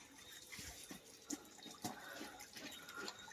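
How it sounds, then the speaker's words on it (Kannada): Water running in from a household supply tap as a thin, weak flow, a faint trickle with a few small splashes and drips. "ಈ ಕಡೆ ನೀರು ಬಂದಾವ, ಸಣ್ಣದವ್ರಿ, ಇನ್ನು ಜೋರಾಗಿಲ್ಲ"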